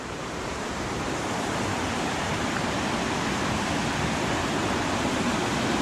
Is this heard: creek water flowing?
yes